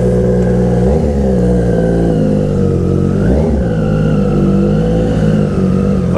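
A 2020 Triumph Street Triple 765 RS triple-cylinder engine drones steadily while being ridden, loud and close throughout, with a couple of brief throttle swells and no talk over it.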